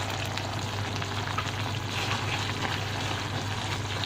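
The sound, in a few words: pizza sauce with chilli, salt and sugar cooking in pan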